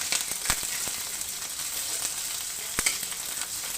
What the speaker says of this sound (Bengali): হ্যাঁ, হালকা ভাজা হলে আমি কিন্তু নামিয়ে ফেলবো।